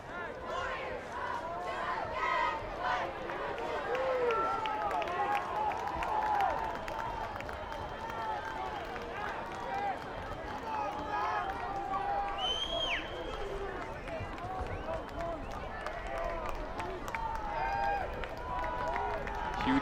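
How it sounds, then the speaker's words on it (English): A crowd cheers and claps in the stands at a high school varsity football game between Wakefield and Masconomet. The roar swells and stays constant the whole time, and a commentator talks over it. "The crowd is rallying."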